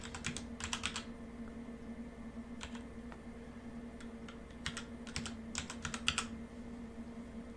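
Fingers type on a computer keyboard in quick clusters of keystrokes separated by short pauses, soft and close over a faint steady hum.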